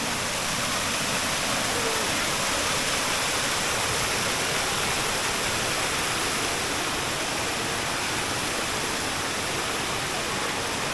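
Tat Kinnaree waterfall rushes in a constant, loud broadband roar of falling water, steady and unbroken throughout.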